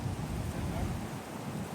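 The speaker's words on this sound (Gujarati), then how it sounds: "દુનિયાનો પવન ઓ ભાઈ નેક્સ્ટ લેવલનો પવન છે" Strong wind roars and buffets the microphone in a continuous low, rumbling rush during a rainy spell, loud and unbroken with no clear speech.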